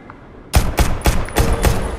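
Gunshots in the video game Deceit 2: five loud, close reports at an even pace, each with a short tail, beginning after half a second of quiet room tone.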